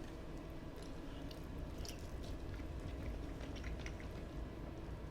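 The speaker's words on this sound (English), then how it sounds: "Excuse my chewing if you can hear my chewing." Close, wet chewing and biting of food, soft irregular squishy crunches against a steady background noise.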